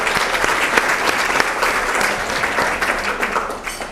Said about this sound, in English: I encourage everyone to join me in giving applause to NAWBO Chicago board members.